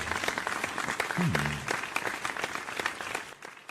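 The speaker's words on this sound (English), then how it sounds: "So we have loud applause." Loud audience applause fills the room after a live song in a competition final, a dense continuous wash of many hands clapping with a brief voice-like tone rising through it midway.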